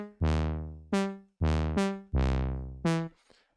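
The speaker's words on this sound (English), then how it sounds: "The next layer of the lead is a synth, which is from Futuristic Volume 2 as well." Synth 3 lead synth patch from the Futuristic Volume 2 pack, pitched to C for a future house track, plays five bright, buzzy sustained notes in a melodic phrase, each with a sharp attack and gradual fade, alone without voices.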